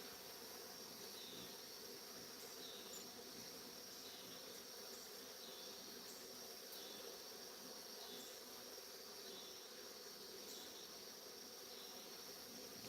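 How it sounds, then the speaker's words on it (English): Bees hover and buzz around a honey jar outdoors in the evening, a faint, steady insect drone with a soft hiss beneath and no voices. "These bees trying to get in the honey jar."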